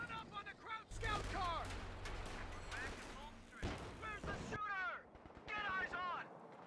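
Machine gun fire from a .50 cal in the World War II strategy game Company of Heroes 2, with repeated bursts, explosions and battle noise under an English commentator's voice.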